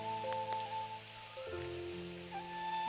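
Steady rain falls outdoors in a village during monsoon weather, a continuous wash of drops on surfaces that runs throughout, with sustained tonal hums layered over it.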